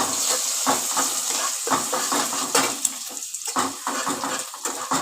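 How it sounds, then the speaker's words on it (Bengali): Grated garlic sizzles in hot oil in a pan while being stirred, giving a steady frying hiss with soft scraping and clinks from the utensil, close and alone without talk. "রসুনটাকে আমি দিয়ে দিচ্ছি তেলের ওপর এবার একটুখানি এটা নেড়ে নিচ্ছি"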